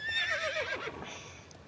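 A small Jorvik Wild Horse in a video game rears and gives a loud, clear whinny that wavers and falls in pitch over about a second, with faint hoof clops beneath.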